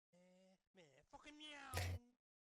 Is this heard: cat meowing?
yes